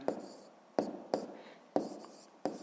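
Hand writing during a 5th-grade math exercise, a few sharp pen taps and strokes spaced about every half second, close and quiet, with faint murmuring underneath.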